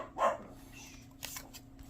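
A single short dog bark sounds at a distance over a quiet background, followed by a faint second yelp.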